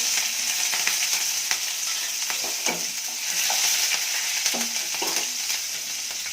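Curry leaves and chopped green chillies fry in hot oil, giving a continuous close sizzle with occasional stirring clinks and scrapes and no talking.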